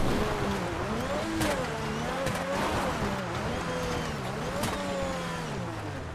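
A car driving in GTA FiveM, a classic Edward King model, engine humming and rising and falling in pitch through repeated revs and gear changes, steady and close throughout.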